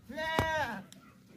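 A healthy, heavy she-goat with a kid at a livestock market gives a single clear, fairly close bleat lasting about half a second, with a faint background click.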